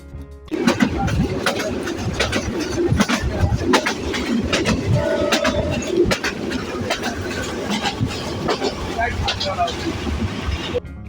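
A train pulls into a railway station on the Rangpur to Gaibandha route in Bangladesh, a loud rumbling engine and clattering build over busy platform noise, with people talking nearby and birds chirping.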